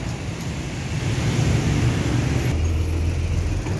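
Dense road traffic in a jam in Palembang, a steady broadband rumble of car, bus and truck engines with a low idling drone, continuous and moderately loud throughout with no talk.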